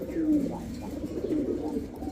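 Pigeons coo softly in a pigeon farm, with repeated low, rolling calls close by that overlap in a continuous murmur and have no talk over them.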